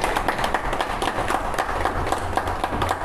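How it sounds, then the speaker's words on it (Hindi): A small group claps at a ribbon-cutting for an eye clinic opening, a quick uneven patter of hands heard close amid low crowd noise and rumble for a few seconds. "सब कोई तालियां बजाएंगे"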